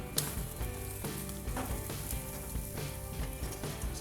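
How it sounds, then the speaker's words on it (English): A huge T-bone steak sears on a grill, sizzling and crackling continuously at close range with small popping spatters throughout. "Well, you see it sizzling just like that."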